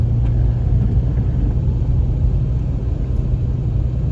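A car travelling along a road produces a steady low rumble of engine and tyre noise heard from inside the vehicle, continuous and fairly loud with no talk.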